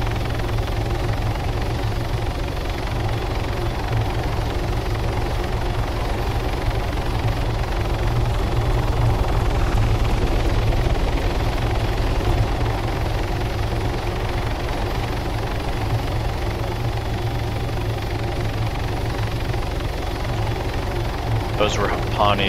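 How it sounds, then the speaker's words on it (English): Helicopter in the King of the Hill video game, a continuous loud rotor thrum and engine drone that runs unbroken throughout. "I can't hear you while I'm running the chopper that well."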